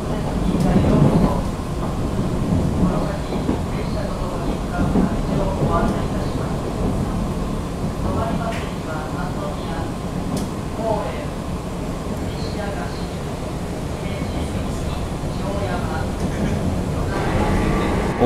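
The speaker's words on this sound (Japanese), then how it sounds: "列車新大阪ではなく尼崎を通過しています。" Inside a motor car of the overnight limited express train Ginga on the Tokaido Main Line near Amagasaki, a steady loud rumble of running gear and motor noise fills the whole stretch while someone talks over it.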